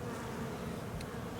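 Honeybees buzz around a hive on a cool, slightly windy spring day. The dense, steady drone of many insects is heard close up, with no voices.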